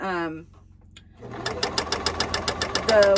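A sewing machine stitching a fabric seam, starting after a brief spoken voice and then running in a fast, even rhythmic chatter of close mechanical beats that speeds slightly toward the end.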